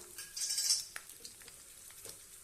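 Ginger and garlic frying in a pan for mint chutney, a soft sizzle with a few light clinks and stirring scrapes of a utensil, fairly faint and close, without speech.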